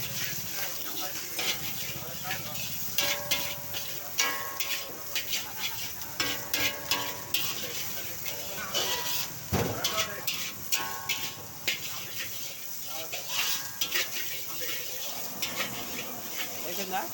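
Food frying in plenty of oil while being stirred, with a steady sizzling hiss and repeated rhythmic scraping and clinking of a utensil against the pan, heard close up.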